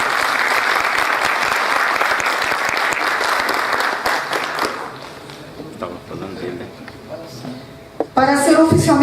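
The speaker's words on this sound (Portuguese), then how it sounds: "Nossos aplausos para o comendador." An audience at a formal Brazilian award and decoration ceremony applauds loudly and densely for about five seconds, then the clapping thins to scattered claps before a voice speaks near the end.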